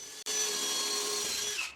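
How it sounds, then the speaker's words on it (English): Power drill pre-drilling screw holes into a salvaged live oak table base, one continuous high whining bore lasting well over a second, close and steady, alone without talk. "here I am drilling those holes out, pre-drilling for those screws"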